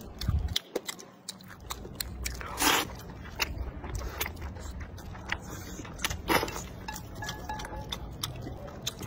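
Close-up eating of braised pork belly with pickled peppers and chewy rice noodle sheets, with soft biting, chewing and slurping mouth sounds at varied intervals and a couple of louder bursts.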